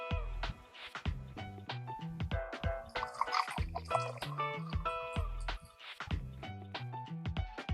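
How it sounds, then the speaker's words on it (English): Water drips and plops in a quick, rhythmic patter of bright droplets, repeating in clusters as a pouring effect, fairly close and with no talking over it. "This is how you can make this water pouring effect."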